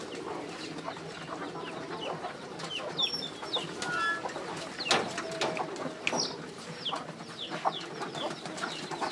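A flock of pigeons eating gives scattered low coos among pecks, rustles and brief wing flutters, with other fowl-like clucks mixed in at moderate distance.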